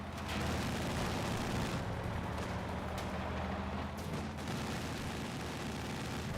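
Mortar impacts and gunfire rumble in a Company of Heroes 2 battle, a dense, continuous din of explosions and shooting at moderate level with no distinct pauses.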